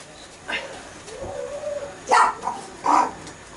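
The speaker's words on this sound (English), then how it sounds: "that's our dog Maya." A dog named in passing as the household dog lets out a few sharp barks and a short whimpering whine, close by, with quiet pauses between them.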